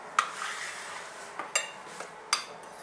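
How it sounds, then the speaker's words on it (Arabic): A spoon stirs powdered sugar mixed with cinnamon in a bowl, making a few sharp, light clinks against the dish over a quiet background. "نخلط جيدا"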